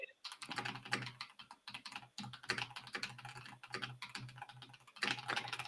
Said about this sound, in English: I'm just doing my aggressive typing